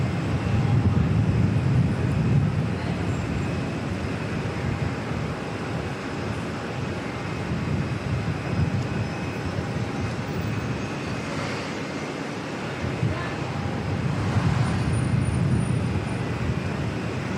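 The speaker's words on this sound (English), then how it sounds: "Now we've got the Qantas 787 coming in from Brizzy, Qantas 119." A Qantas Boeing 787 on approach to Auckland Airport, a steady broadband engine roar with low rumble holding fairly loud and constant throughout, swelling slightly toward the end, with no voices.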